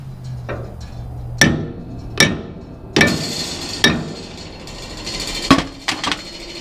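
A hammer strikes metal parts on a Bandit 18XP wood chipper during belt and bearing work, about seven sharp ringing taps spaced roughly a second apart, close and loud over a quiet background.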